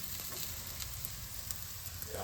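Raw banana slices frying in a little oil on a tava for a crispy South Indian snack, a steady, quiet hiss with faint crackles throughout and no break.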